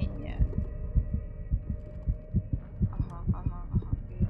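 A game heartbeat effect thuds in a steady paired rhythm, low and prominent, over a faint hum with a brief voice in the background, from the horror game Call of Cthulhu set in a psychiatric asylum.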